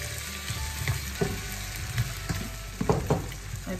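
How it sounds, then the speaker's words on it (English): Tomatoes and runner beans sizzling in a pan, a steady close frying hiss with scattered stirring clatters and scrapes. "Then I add the tomatoes. And the runner beans."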